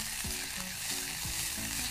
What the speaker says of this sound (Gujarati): ડુંગળી છે એ ટ્રાન્સપરન્ટ થાય એટલી જ વાર એને સાતવશું